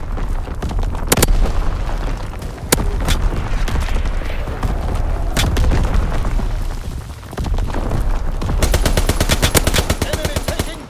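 Heavy gunfire and booming explosions fill a Call of Duty: WWII Domination match on the Shipment 1944 map as an artillery battery opens fire. Loud, dense and continuous, with rapid automatic bursts and sharp blasts throughout.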